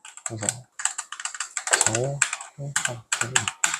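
Buttons on a macro keyboard are pressed in quick, irregular bursts of clacking keys, close to the microphone, with a voice talking over them.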